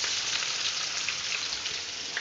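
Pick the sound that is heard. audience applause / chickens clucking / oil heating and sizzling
oil heating and sizzling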